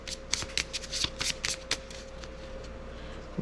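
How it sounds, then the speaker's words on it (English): Playing cards shuffled by hand for a tabletop air-war game, a quick run of crisp riffling flutters, close and fairly quiet over a steady low hum. "So let's shuffle this up."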